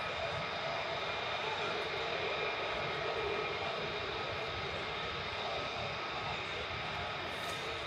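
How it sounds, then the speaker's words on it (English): Two F-15 fighter jets at RAF Lakenheath, a loud continuous broadband jet roar holding steady throughout with a faint higher hiss near the end. "So we've got two F-15s now."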